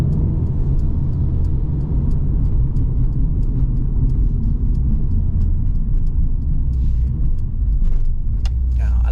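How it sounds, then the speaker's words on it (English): A Mercedes-AMG CLA45S 4Matic+ in race mode fills the cabin with a steady, heavy low rumble of engine and road noise. Small rattles sit on top of the rumble, and a voice is partly present. "Yeah, I like how it downshift for me every time. And the gearbox is so smooth, it's not jerky at all."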